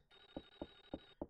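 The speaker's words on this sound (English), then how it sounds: "I keep hearing a ringing telephone" A telephone rings in the video game Clock Tower: a faint electronic ring tone with repeated rapid pulses, quiet and alone.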